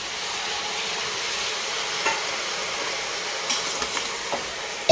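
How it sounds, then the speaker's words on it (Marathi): Ingredients and washed rice stirred together in a pressure cooker pot, heard as a steady hiss and sizzle with a few soft scraping knocks of the spoon, close and continuous, with no speech. "आता सगळं सामान एकत्र मिक्स करून घ्यायचं आहे मस्तपैकी."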